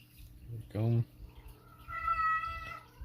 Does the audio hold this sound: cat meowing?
yes